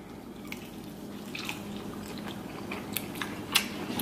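Someone chews a mouthful of seafood-boil lobster tail in close-up, with soft wet bites, squishy mastication and occasional sharp clicks, steady and quiet with no talking.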